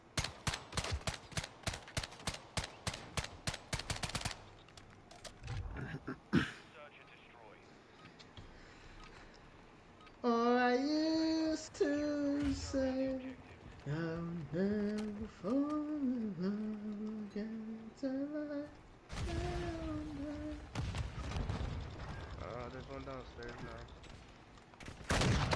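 Rapid bursts of video game gunfire crackle in loud volleys at the start and again near the end, with a voice talking in the quieter middle stretch.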